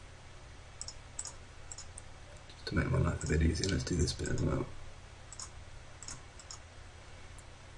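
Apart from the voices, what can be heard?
computer mouse clicking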